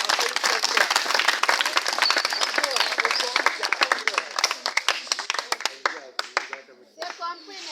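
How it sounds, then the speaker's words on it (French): A group of young people at a church Advent retreat claps together, a dense burst of hand claps that thins toward the end into a few scattered claps, with voices in the background. "On applaudit."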